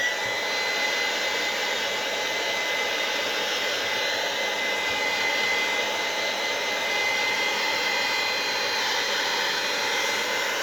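A heat gun blows a steady, even whoosh while embossing craft butterflies for a fairy bauble, a continuous close hum with no breaks or talking.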